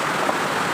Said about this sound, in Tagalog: Grabe ulan dito.